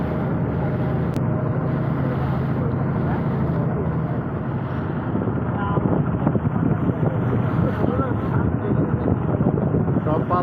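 Speedboats and trawlers heading home from a religious gathering pass along a river, their engines a steady, continuous drone mixed with wind buffeting the microphone.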